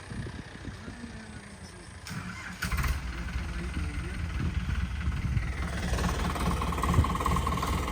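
A tractor used for puddling a paddy field rumbles nearby, growing louder after a few seconds and then chugging steadily.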